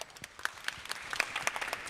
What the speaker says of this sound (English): Please give a big round of applause for Benj Marlowe.